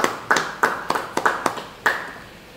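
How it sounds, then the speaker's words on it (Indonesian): Congregation in a church Bible study clapping hands together, about eight sharp claps in an irregular rhythm, close and fairly loud, with no talk over them. "Beri tepuk tangan kepada Tuhan."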